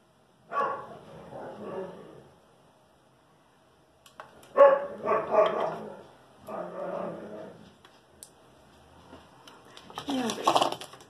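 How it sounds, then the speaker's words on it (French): Dogs bark and yip in short bursts in the background, playful rather than aggressive, with a pause between rounds and a final louder flurry; a voice is faintly present. "Excusez si vous entendez des chiens en arrière."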